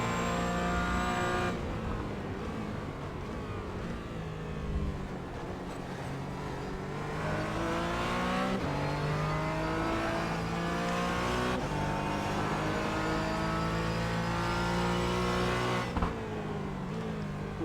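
A race car engine roars on the Sebring short course in iRacing, holding a loud continuous drone as it climbs through the revs, drops on upshifts and climbs again, with no voices over it.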